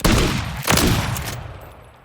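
Two Winchester 1887 lever-action shotguns dual-wielded in Call of Duty Modern Warfare III fire in quick succession, two loud booming blasts close together with a ringing decay after.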